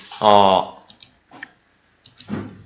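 Computer mouse clicking a button in accounting software, a few sparse, light clicks spaced apart after a short voiced sound, close and quiet in an otherwise still room.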